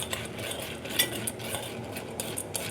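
Popcorn being mixed with salt, pepper, chilli powder and butter, giving a steady close rustle with light metallic clinks of a utensil against a pan, continuous and alone without talk.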